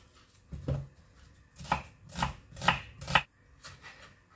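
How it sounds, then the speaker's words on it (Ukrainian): A knife chops an onion on a cutting board in a handful of sharp, uneven strikes, close by, with short gaps between cuts. "І нарізаю цибульку."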